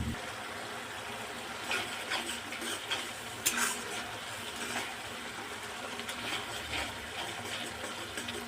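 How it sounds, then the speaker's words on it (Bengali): Masala frying and being stirred in oil in a pan while cooking pomfret fish, with a steady soft sizzle broken by occasional scrapes and clinks of a utensil against the pan, close and alone. "মশলাটা আমার ভালো করে কষানো হয়ে গেছে"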